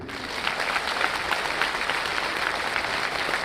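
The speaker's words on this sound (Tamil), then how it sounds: "இவருக்காக கொஞ்சம் கைதட்டு." A crowd claps steadily, a dense, even patter of many hands that holds at the same loudness throughout.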